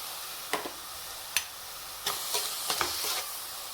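Tomatoes sauté in a pan for egg curry, giving a soft, steady sizzle punctuated by several sharp spoon clicks and scrapes against the pan as they are stirred.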